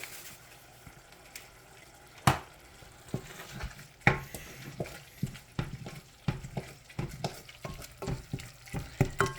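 Chili being stirred in a pot, with a run of scraping, clattering spoon strokes that grow busier toward the end, close up with a light sizzle underneath and no talking.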